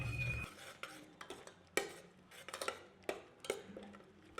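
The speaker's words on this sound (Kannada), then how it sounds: "ಟೊಮೆಟೊ ಮತ್ತು ಆನಿಯನ್ ಚೆನ್ನಾಗಿ ಸಾಫ್ಟ್ ಆದ ನಂತರ ಆಲ್ರೆಡಿ ಪೇಸ್ಟ್ ಮಾಡಿ ಇಟ್ಕೊಂಡಿದ್ವಲ್ಲ ಅದನ್ನು ಆ್ಯಡ್ ಮಾಡಿಕೊಂಡು ಚೆನ್ನಾಗಿ ಫ್ರೈ" A spoon scrapes and clanks against a pan while tomato, onion and paste fry, irregular close metallic knocks every half second or so over a faint low sizzle, quiet and without voices.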